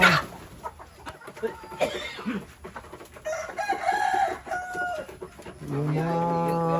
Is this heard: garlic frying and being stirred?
no